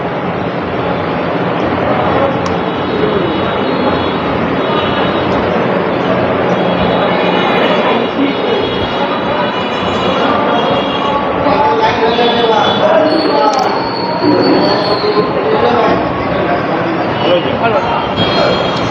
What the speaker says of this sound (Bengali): প্রচুর পাখা চলছে তো ওটা আওয়াজ হচ্ছে